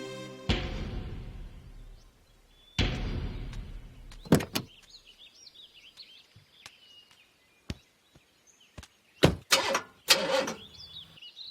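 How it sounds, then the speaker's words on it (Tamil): A car's engine fails to start over several tries, giving two long cranking whirs followed by sharper clicks and short bursts, with quiet gaps between them. "சார் வண்டி சாட்டா மாட்டேங்குது, கொஞ்சம் இறங்கி தள்ளி விடுங்க."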